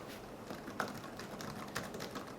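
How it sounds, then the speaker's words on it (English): Keys clatter steadily on a Microsoft Surface Book keyboard, with a couple of sharper, louder strikes standing out from the quick, close typing. "even if I'm really banging away on the keyboard, this thing's not moving at all"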